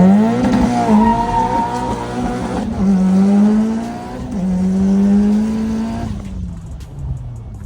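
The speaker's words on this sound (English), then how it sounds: "That thing just smoked the tires." Mitsubishi Evo 8 launching on a dyno and smoking its tires, a loud engine revving and holding a high, strained note, with brief dips before it cuts off near the end.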